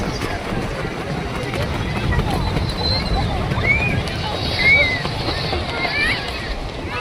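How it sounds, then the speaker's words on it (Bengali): Sea waves wash onto Puri beach in a continuous broadband surge, with wind buffeting the microphone and faint voices and brief chirpy sounds of the crowded shore in the background. "সাগরের ঢেউ চারিদিকে মুখরিত করে রেখেছে।"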